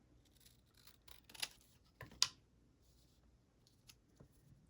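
Scissors trim paper for a scrapbook pocket, giving a couple of crisp, quiet snips about a second apart in an otherwise hushed room with no talking.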